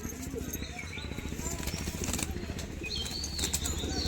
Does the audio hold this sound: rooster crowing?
no